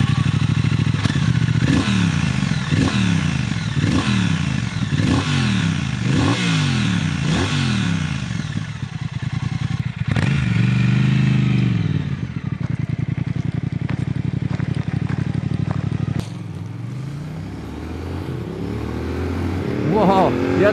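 A Triumph Thruxton RS 1200 twin-cylinder motorcycle engine starts and runs loud and close, with rising and falling revs repeated in a steady rhythm, then a deep idle and a renewed climb.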